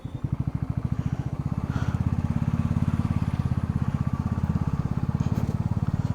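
A motorcycle threads through a heavy traffic jam on a Kolkata to Siliguri ride, its engine chugging in a steady, close, rapid thrum throughout, with no one speaking.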